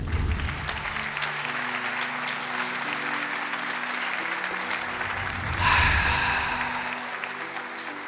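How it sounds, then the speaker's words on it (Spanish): A church congregation breaks into sustained applause, a dense, even wash of clapping hands that swells briefly near the end before easing off. "Dale un aplauso al Señor."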